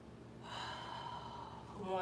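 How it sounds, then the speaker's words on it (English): A steady, audible inhale and exhale during a kneeling stretch with toes tucked and hips sitting back on the heels, lasting about two seconds and fairly close. "Tuck those toes and sit back on your heel, and we're gonna start breathing."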